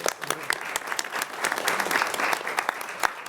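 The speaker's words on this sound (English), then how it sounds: "I appreciate another round of applause again for our students" An audience at a school district board of education meeting applauds student ambassadors, a short steady burst of many hands clapping at moderate loudness, with a few sharper individual claps standing out.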